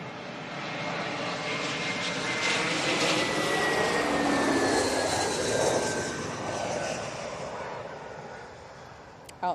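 A British Airways plane from Edinburgh arriving at London Heathrow Airport, its engines a steady, broad roar that swells as it passes nearby and then slowly fades, with no voices over it.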